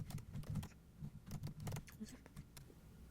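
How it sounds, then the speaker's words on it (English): Typing on a computer keyboard in screenwriting software produces quiet, uneven bursts of key clicks with brief pauses, close and soft. "So I'll keep typing."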